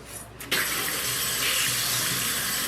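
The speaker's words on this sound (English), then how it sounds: "I literally love cleaning my beauty blenders." Tap water runs steadily into a sink while makeup sponges are washed, starting softly then jumping to a loud, continuous hiss after half a second.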